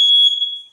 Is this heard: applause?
no